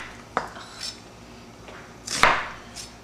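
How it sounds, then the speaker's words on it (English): Knife chopping onions on a cutting board for a finely diced Afghan dish, heard as a few sharp, separate knocks and clatters spaced irregularly, with one louder strike near the end. "we're going to start off by chopping the onions"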